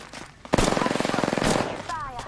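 Rapid automatic gunfire in Apex Legends cracks out in a quick even burst of about a second, fairly close, with a faint game chime near the end.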